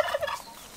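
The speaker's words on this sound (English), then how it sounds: "Hey turkey, what's your turkey's name?" A turkey on a farm gobbles once, a loud, close, warbling call that fades out within a second, with no talk.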